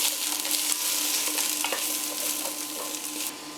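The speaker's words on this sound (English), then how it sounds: "So you add some olive oil in the pot and then put the mushrooms" Mushrooms browning in olive oil in a pot hiss with a steady sizzle, broken by soft scraping and clicking as they are stirred, fairly close and even in level throughout.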